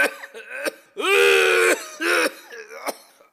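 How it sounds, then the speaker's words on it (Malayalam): A person coughs and clears their throat nearby in a comedy skit, a few harsh bursts with one long rasping cough in the middle. "ഓ കഷ്ടം, എന്നാ ചുമയായത്?"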